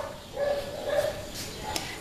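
A dog in a kennel gives a few short yips and whimpering barks, moderately close, spaced across two seconds against quiet background noise.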